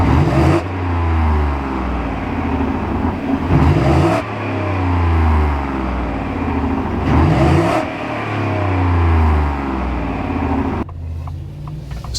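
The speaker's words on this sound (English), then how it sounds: "it's not the fastest truck in the world with the V8 under the hood, but it does sound pretty good" A V8 engine in a Ford F-150 Tremor 4x4 pickup accelerates hard through several gears, a loud deep rumbling rev rising and dropping with shift breaks, heard up close with no talking.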